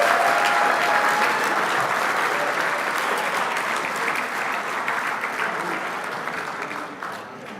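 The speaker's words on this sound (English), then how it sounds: "Make sure that applause is loud and proud" A banquet crowd at the 1/10 IFMAR Worlds 2023 awards, held at Hobby Action RC Raceway, claps loudly for a top-three RC racer; the dense applause runs for several seconds and gradually thins toward the end.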